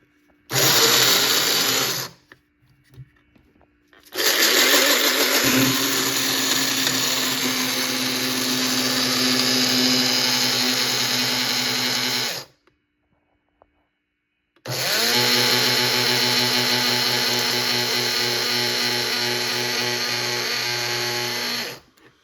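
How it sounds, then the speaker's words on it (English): Electric grinder pulverizing eggshells for vermicompost: three loud, sustained motor roars with a rattling, whirring texture, the first short and the next two about eight seconds each, separated by silent pauses. "grind some eggshells."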